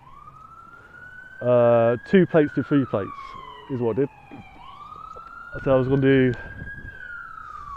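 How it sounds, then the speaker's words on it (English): An outdoor police siren wails past with a rising and falling tone that stays steady and fairly loud, while someone talks in bursts over it. "Sorry for the siren."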